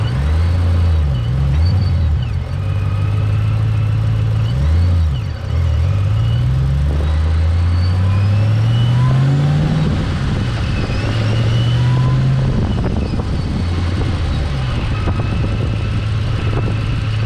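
Nissan Skyline R33 cruising, its engine droning loud and close as the pitch climbs and drops through repeated gear changes, a deep steady rumble with no talk.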